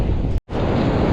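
Ocean waves surge and wash continuously in the surf around a metal detectorist, loud with wind buffeting the microphone, broken by one brief dropout of near silence.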